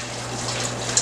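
Skimmed beef broth poured back into a pot for stove-top beef stew, a steady continuous gush of liquid with no gaps and a small splash near the end, moderately loud and close.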